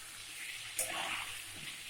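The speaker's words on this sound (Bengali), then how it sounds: "আমি কড়াইয়ের মধ্যে" Brinjal pieces dropped into a hot wok to fry give a brief burst of hissing sizzle, which settles into a steady soft frying hiss.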